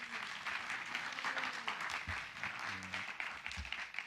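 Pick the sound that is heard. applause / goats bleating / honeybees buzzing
applause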